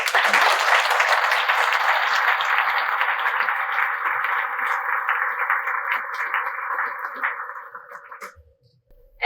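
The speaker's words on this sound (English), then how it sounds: "please join me in a round of applause to thank each and every one of these sponsors and advertisers" A large audience at a chamber of commerce dinner applauds the sponsors. The clapping is loud and sustained for about eight seconds, then fades out to near silence.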